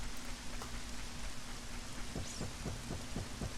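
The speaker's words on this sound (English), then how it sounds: "we can't do that until it is done raining" Steady rain falls in The Legend of Zelda: Ocarina of Time, a continuous hiss of raindrops with faint soft thumps toward the end, no voices.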